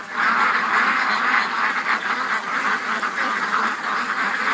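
Ducks gathered by a creek keep up a steady, chattering chorus of quacks, several birds calling over one another at close range without pause.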